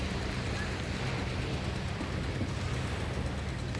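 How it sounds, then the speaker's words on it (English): Ocean waves surge and break at high tide on a Sanibel Island, Florida beach, a steady broadband wash with constant wind buffeting the microphone and no distinct individual crashes. "With high tide you get bigger waves."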